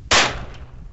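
A single sharp gunshot from an SR-22 rifle at an outdoor shooting range, loud and close, with a sudden crack that quickly fades into a short decaying echo.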